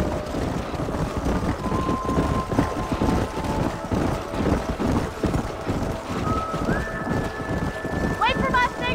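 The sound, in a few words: horses galloping in Red Dead Redemption video game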